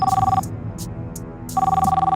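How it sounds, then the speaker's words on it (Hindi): A telephone rings at night in an animated Hindi series, two loud pulsing electronic trills separated by a short pause. "ये क्या, इतनी रात को विमला दीदी क्यों फोन कर रही है?"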